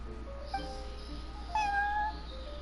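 Prince, a cat in Genshin Impact, gives two short meows, the second longer and higher, close and clear over a low steady background hum.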